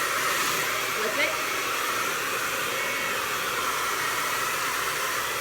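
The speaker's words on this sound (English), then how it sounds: "Always blow dry your hair in this direction as the hair grows" A hair dryer blowing steadily on hair, a loud continuous rushing whir that stays level throughout with no pauses.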